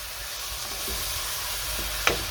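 Ground pork and beef sizzle in a pan while being broken up and stirred, a continuous frying crackle with soft scraping strokes and a sharp utensil clack near the end.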